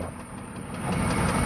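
The diesel engine of a C4500 truck with a bad knock runs at a steady idle close by, a rough, continuous mechanical rumble with no talking.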